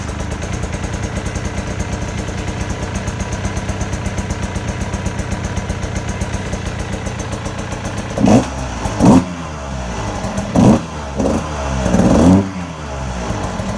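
A 2020 KTM 150 XCW TPI dirt bike engine, still cold, idles with a steady, close two-stroke putter, then gets blipped into several sharp revs in quick succession.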